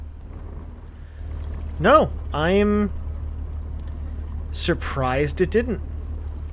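A low, steady engine drone from a wonky tractor being driven in the video game Hydroneer hums throughout, with someone talking over it.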